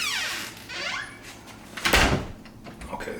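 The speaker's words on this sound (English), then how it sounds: "This is a heavy ass door." A heavy household door creaking as it swings open, with drawn-out squeaks sweeping up and down, followed by a louder thud or knock near the end, close and fairly quiet.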